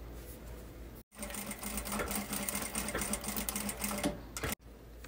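A sewing machine runs a short burst of stitching along a half-centimetre seam on a fabric case, a steady fast whirring that stops with brief pauses at both ends.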